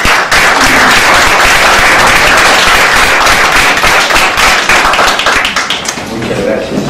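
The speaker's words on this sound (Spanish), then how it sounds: "Un fuerte aplauso para el ingeniero Barrera." An audience gives a strong round of applause for an engineer at a public talk, with dense, steady clapping filling the room from start to finish.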